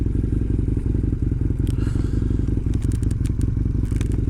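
A Husqvarna Nuda 900R motorcycle engine drones steadily and close, running up through the gears with quickshifter changes marked by brief clatters and scrapes over the continuous rumble.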